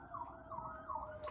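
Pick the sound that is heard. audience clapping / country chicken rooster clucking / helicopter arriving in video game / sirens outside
sirens outside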